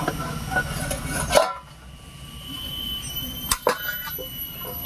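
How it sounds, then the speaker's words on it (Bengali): A lid is lifted off a cooking pot of banana stem curry with a clanking metal scrape, followed later by a couple of lighter clinks against a quiet kitchen background. "এবারে ঢাকাটা তুলে নিচ্ছি"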